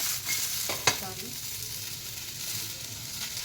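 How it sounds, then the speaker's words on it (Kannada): A few whole cloves fry in a pan for a mutton head sambar, giving a soft, steady sizzle with a single sharp clink early on; no one speaks. "2 3 ಲವಂಗ, ಇದನ್ನು ಚೆನ್ನಾಗಿ ಫ್ರೈ ಮಾಡ್ಕೋಬೇಕು."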